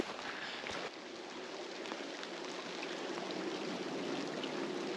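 A small forest stream flows in a steady, soft rushing wash, faint and continuous with no voices over it.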